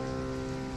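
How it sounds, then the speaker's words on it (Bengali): Sudden rain pours down in a village near Jhargram, West Bengal, a dense, steady hiss of drops on surfaces, close and unbroken with no voices. "হঠাৎ করে বৃষ্টি এসে গেল।"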